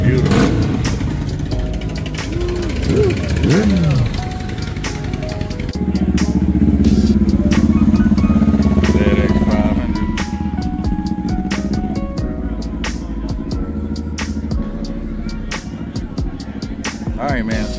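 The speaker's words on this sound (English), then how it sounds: "the bikes are all lining up along here" Motorcycles idling and revving at a bike night outside a Hooters, loud and close, with repeated throttle blips over a steady engine rumble while people talk nearby.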